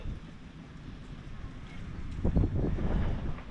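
Steady wind buffeting the microphone outdoors, a constant low rumble that gusts louder toward the end.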